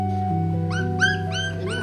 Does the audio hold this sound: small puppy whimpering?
yes